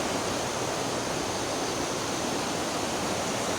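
Water rushes beneath a bamboo bridge in a steady, dense wash of flowing noise, continuous and even from start to finish with no voices.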